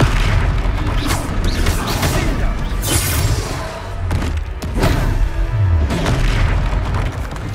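A Confringo spell explosion in Hogwarts Legacy on PS5 lands as a loud, deep boom with rumbling impacts, set among other spell-casting effects and game sounds.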